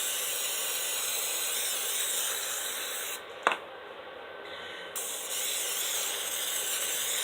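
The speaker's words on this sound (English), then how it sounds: "And I am going to spray my casserole dish." Cooking spray misted onto a casserole dish while making a beef and veggie casserole, a close, steady hiss that runs for several seconds, briefly cuts out with a small click, then resumes.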